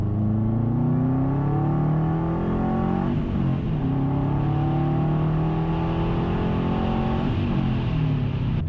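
Tuned 2007 Subaru WRX turbo engine revving hard under acceleration, with loud, continuous harmonic engine drone that climbs in pitch, dips briefly around two gear shifts, then climbs again; no talking.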